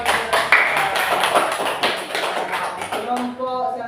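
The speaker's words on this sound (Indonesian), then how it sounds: "Bagus, tepuk tangan." A classroom of students claps their hands together on cue, a short burst of close, fairly loud claps that tapers off, with a teacher's voice speaking briefly at the end.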